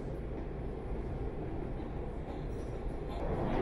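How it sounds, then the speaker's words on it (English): Inside a Bronx-bound New York City 2 express subway train while it rides, a loud, steady rumble of rails and car noise continues throughout with no talk. "This is a Bronx-bound 2 express train."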